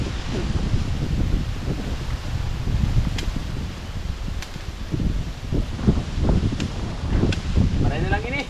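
Strong typhoon wind buffets the microphone in gusty, uneven roars and rustling, continuous throughout, with people talking over it.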